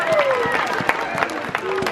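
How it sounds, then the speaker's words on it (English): Audience applause fills the hall after the championship result at the 2019 WCFC balisong flipping competition at Blade Show West, a dense, steady patter of clapping and crowd noise with voices mixed in. "Huge round of applause."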